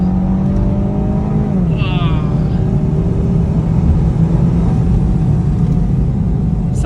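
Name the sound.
Range Rover engine revving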